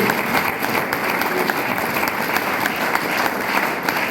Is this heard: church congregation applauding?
yes